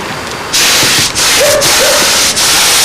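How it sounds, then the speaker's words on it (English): A model airplane is spray painted with dope in a garage, giving a loud, steady hiss that starts after a brief quieter moment and carries on with only short breaks. "As he spray paints my camera."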